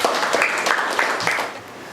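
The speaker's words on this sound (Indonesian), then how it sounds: "tepuk tangan" A classroom of students claps together in a short burst of applause that fades away within a couple of seconds.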